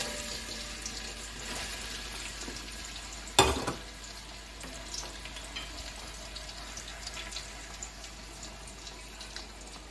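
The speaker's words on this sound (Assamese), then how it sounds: "ইয়াতে মই ৰিফাইন দিছোঁ, তাৰপিছত ইয়াতে দিছোঁ পিঁয়াজ।" Onions fry in refined oil for chicken pulao, a soft steady sizzle heard close, broken by a single sharp clatter early on and faint stirring afterward.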